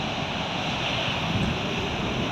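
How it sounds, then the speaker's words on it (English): Atlantic surf at Perranporth beach, Cornwall, crashing in at high tide on an early March morning. The roar is loud and continuous, with wind buffeting the microphone throughout and no voices. "And the Atlantic Ocean roaring in."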